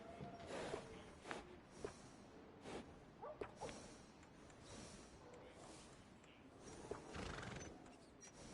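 A horse in a PS4 video game neighs and whinnies repeatedly, mixed with hoof clip-clops and snorts, fairly quiet with a faint voice in the background.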